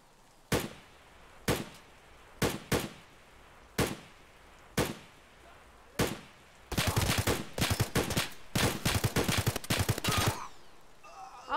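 Gunfire in the game Wu-Tang is Forever: a series of single sharp shots spaced about a second apart, then a rapid cluster of shots, loud and close with quiet between them.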